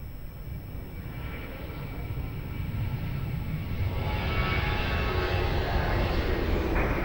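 An airliner rolls for takeoff on runway 02 at Lisbon Airport, a broad steady jet roar that builds gradually and stays loud and continuous from start to finish, with no voices.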